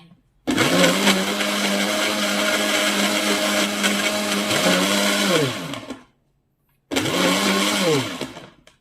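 A blender making a mocha smoothie whirs loudly and steadily for several seconds, cuts off, then starts up again for a second burst with a rising motor whine.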